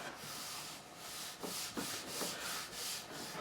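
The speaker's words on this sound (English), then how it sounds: "So I'm going to get this all sanded back." Steady back-and-forth sanding of a wooden Warwick Corvette Double Buck bass neck, a continuous soft rasping hiss with rhythmic strokes, close and quiet, with no voices.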